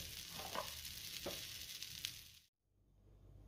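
Chickpea thalipeeth, a flat Maharashtrian flatbread made from fresh green chickpeas, sizzling and crackling in a hot pan with soft bursts of frying noise before cutting briefly to near silence.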